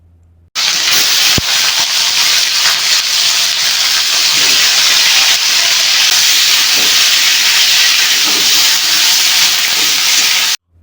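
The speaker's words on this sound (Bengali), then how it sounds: "এবার ওই একই তেলের মধ্যে কেটে রাখা কুচে মাছগুলোকে দিয়ে ভাজতে হবে।" Cut kuche eel fish drop into hot oil already used for frying potatoes, a sudden loud, continuous hissing sizzle that holds steady for about ten seconds after one sharp clank at the start.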